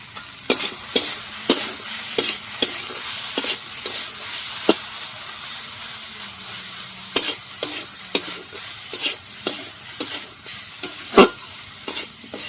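Dalia khichuri with chopped tomatoes and salt is stirred in a frying pan: irregular scraping and clinking strokes of a spoon ring out over a soft, continuous sizzle.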